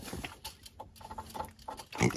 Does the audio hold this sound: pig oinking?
yes